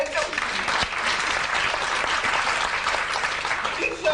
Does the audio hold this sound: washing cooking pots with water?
no